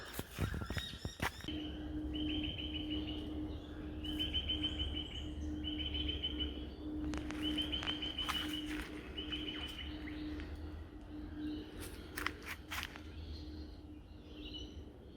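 Small birds, sparrows among them, chirp in repeated short bursts against a steady outdoor hum, with a few sharp clicks and knocks near the start and later on.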